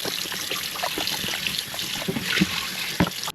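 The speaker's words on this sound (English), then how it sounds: "Rinse my ribs off." Fresh water runs over baby back ribs during rinsing, a close trickling and pouring sound with small splashes and a few knocks near the end, no talk.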